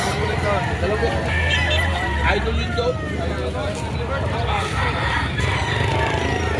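Gamefowl roosters, including a Gilmore Hatch, cluck and crow amid a busy poultry market in Padre Garcia, Batangas, with steady crowd babble, people talking and passing vehicles underneath.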